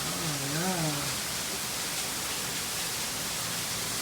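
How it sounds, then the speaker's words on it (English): Bridal Veil Falls roaring steadily as the water falls down, a loud broadband rush close by, with a brief voice over it at the start. "Come take a look at this right here where the water falling down and stuff in there."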